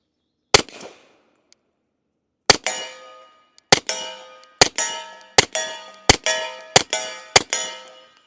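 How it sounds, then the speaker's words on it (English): Suppressed Sig 1911 Series X stainless .45 pistol firing eight shots at a steel target, each crack followed by a bright ringing clang, spaced unevenly then in a quicker closing string, loud and close with no talk. "let's go ahead and shoot some rounds through the Osprey 45"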